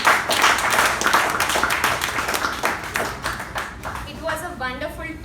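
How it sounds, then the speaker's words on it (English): Members at a Toastmasters club installation ceremony give hearty clapping, a dense run of near claps that fades out toward the end as a speaker starts talking. "can we have a huge applause for them?"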